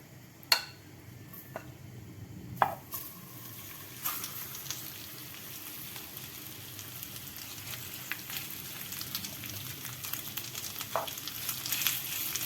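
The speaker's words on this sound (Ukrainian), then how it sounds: "І тепер висипаємо печінку." Quiet, steady sizzling of veal liver frying in a pan, with a couple of sharp knocks near the start, heard without any talking.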